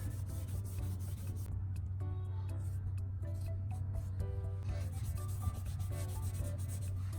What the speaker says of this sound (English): Keep rubbing until the scratch fades or disappears.